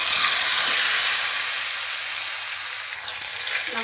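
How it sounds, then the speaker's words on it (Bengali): Hilsa fish frying in hot oil, a steady, close, fairly loud sizzle that eases slightly after the first half-second and carries on with no talking. "মাছ ফ্রাইটা করে নেব।"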